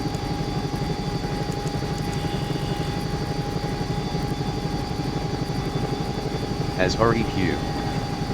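A Bell 222UT helicopter in the X-Plane 11 simulator runs steadily with its engine whine and rotor beating at a constant pitch throughout, while a voice briefly speaks near the end.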